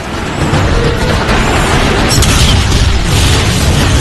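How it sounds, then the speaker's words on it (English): An artillery shell from a warp cannon bursts in Transformers: Fall of Cybertron, a loud, sustained rumbling blast with a brief sharper crack midway and no voices. "They're shelling the plaza! It's coming from that warp cannon."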